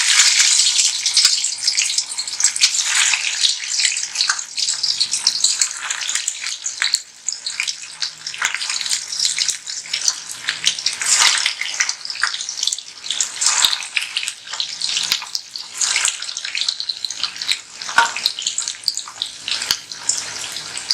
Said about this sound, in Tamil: இப்போ இதை நம்ம எண்ணெயில் போட்டுக்கலாம்.